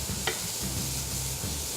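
Vegetables frying in a splash of oil in a pan, giving a steady close hiss and sizzle with a brief scrape of stirring near the start, no voices.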